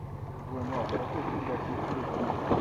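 A motorboat carries children across a lake at the opening of the fishing club season in Ryazan region, its steady engine drone and water wash continuous and close, with wind noise on the microphone.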